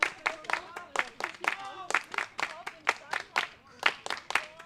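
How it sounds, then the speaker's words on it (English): Baseball crowd at a Bundesliga game between the Mannheim Tornados and Haar Disciples clapping in a rhythmic, evenly spaced pattern, sharp claps repeating about twice a second with a murmur of voices underneath. "Crowd really rearing up."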